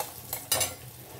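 Turmeric dropped into hot cooking oil, giving a brief soft sizzle with a short stirring scrape and a louder burst of frying hiss mid-clip, alone and quiet.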